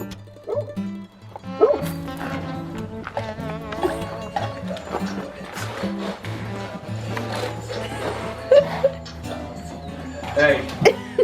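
A dog barking repeatedly in a workshop where a Cummins 5.9 truck with a 48RE transmission is being built, nearby yips and barks mixed with clanking tools and people talking.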